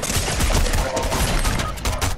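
Dense, continuous burst of gunfire in a video game, with shotgun blasts in a challenge to protect the president, loud and unbroken across a short stretch with no talk over it.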